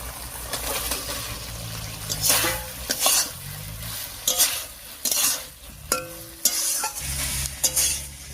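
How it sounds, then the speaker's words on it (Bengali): Fried pointed gourd is tossed into a mustard-poppy seed masala in a hot pan, with repeated scraping strokes of a spatula over a steady oily sizzle. "এবারে ভাজা পটলটা দিয়ে দিচ্ছি এর মধ্যে।"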